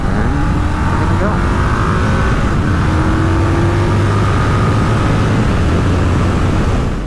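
Indian 101 Scout motorcycle with stock exhaust accelerating on a road, a loud continuous engine drone with rising pitch as revs climb, mixed with heavy wind rush.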